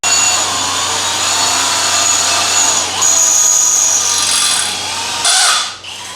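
A power drill drives a hole saw with its pilot bit into metal, giving a loud, close, steady whining grind that dips briefly midway and then cuts off near the end.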